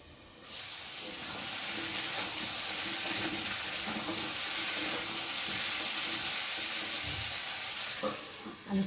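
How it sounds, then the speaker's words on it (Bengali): Potatoes frying in a pan on a gas stove hiss in a continuous sizzle, with soft scraping and stirring sounds over it. A faint knock comes near the end, and no one speaks. "আলুটা একটু নেড়ে দিলাম।"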